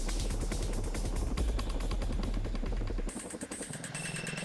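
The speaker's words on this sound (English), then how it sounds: "The CH-47 Chinook provides heavy lift capability, hauling supplies," A CH-47 Chinook heavy-lift military helicopter heard with a loud, steady rotor thump and engine roar that stays strong, then shifts to a lighter whine with higher tones over the last second and a half, with no talking.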